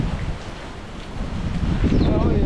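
Strong typhoon wind in Japan buffets and roars against the microphone in heavy gusts, with a low rumbling rush throughout.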